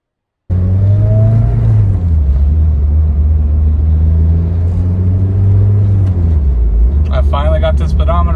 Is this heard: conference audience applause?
no